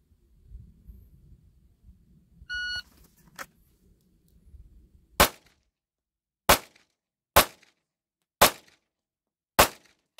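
Five sharp pistol shots ring out one at a time in a one-handed dot torture drill, spaced about a second apart, each a loud crack with a short decay, preceded by quiet handling noise and a brief beep.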